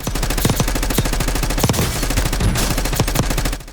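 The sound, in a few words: gunfire in the video game Call of Duty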